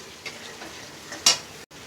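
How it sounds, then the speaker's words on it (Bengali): Chicken frying in a wok, a soft steady sizzle with faint stirring scrapes and one brief sharper hiss partway through, fairly quiet and close with no talking. "এটা ভাজা হোক ততক্ষণ।"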